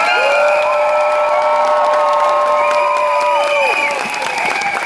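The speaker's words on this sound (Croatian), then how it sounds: "Molim vas, veliki aplauz za njih." A large crowd at Zagreb Pride claps and cheers loudly, with whoops and shouted voices rising above the sustained applause.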